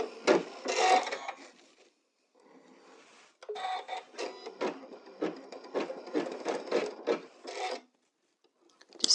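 Embroidery machine stitching a double-layer appliqué satin stitch, a close, rapid rasping patter of needle strokes in two bursts with a brief quieter gap, ending with a short final burst.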